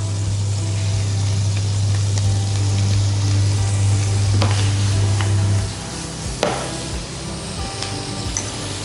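Chicken stir-fried in a pan for a Christmas roast-chicken dish, sizzling loudly and steadily with a bright hiss and a low hum underneath, then quieter stirring clatter near the end.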